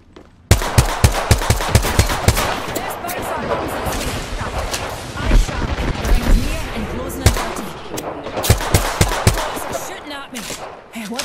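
Rapid automatic gunfire in a shooter game played as a G7 scout, dense bursts of shots from close and far, loud and nearly continuous, with a person talking underneath.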